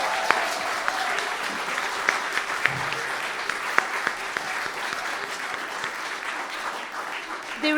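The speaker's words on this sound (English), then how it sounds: "So please can we have a round of applause for the teachers at Forte?" A concert audience applauds the teachers of a music school, steady clapping from a large crowd that fills the whole stretch, with a few sharper individual claps standing out near the end.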